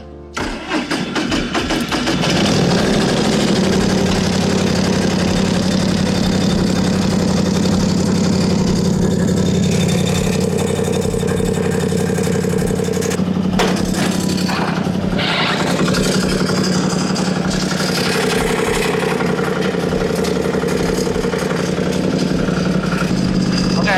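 An FCT25 stubble mower engine cranks and catches, then settles into a loud, steady mid-pitched running roar with a constant drone, briefly dipping and rising again partway through, close by with no voices.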